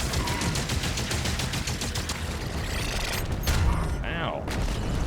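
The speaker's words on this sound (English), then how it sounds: "those are bombs" Bombs exploding in the medieval shooter DOOM: The Dark Ages, a dense run of rapid blasts and gunfire-like bursts mixed with game effects, loud and continuous throughout.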